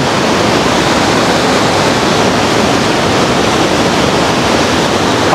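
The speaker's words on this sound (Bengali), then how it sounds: "পানির কি স্রোত বাবা।" A strong river current rushes through the Mohanpur rubber dam in Dinajpur. The loud, dense roar of churning water is continuous and close, with no voices.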